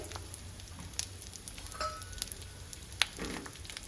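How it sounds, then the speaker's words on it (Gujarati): Soft, quiet sizzling of edible gum frying in hot ghee, with a few small crackles and pops over a low background. "આ રીતે થોડો થોડો ઉમેરી અને તળી લેવાનો"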